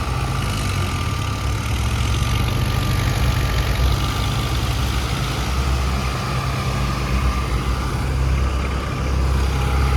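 A tractor engine runs steadily with a deep, constant rumble, loud and close, unchanging throughout, with no voices.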